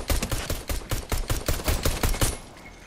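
Rapid gunfire in Fortnite, a steady run of about a dozen sharp shots in quick rhythm, loud and close, then stopping abruptly.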